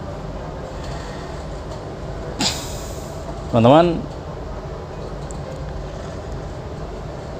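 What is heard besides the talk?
inside a moving train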